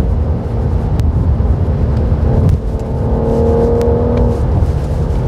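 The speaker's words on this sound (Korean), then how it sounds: "이렇게 큰 힘을, 이렇게 그 우렁차지만 조용한 수준으로 엔진 사운드를 만들어낼 수 있었을까요" A BMW 760Li luxury sedan accelerates on the road, its engine producing a smooth, fairly loud rising drone over tire and wind rush heard from inside the car.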